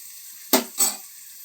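Potatoes dropped into hot oil in a pan for a potato curry give two short, loud sizzling bursts about a quarter second apart over a quiet background hiss, with no voices.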